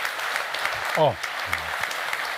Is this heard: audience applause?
yes